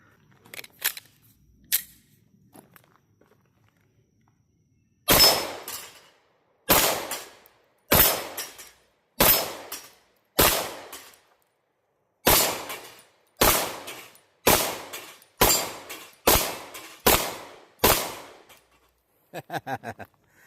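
A Canik Mete SFX 9mm pistol fires at bowling pins fifteen yards away, with a few faint early shots followed by a loud series of about a dozen sharp reports in an uneven rhythm, each with a short decaying echo.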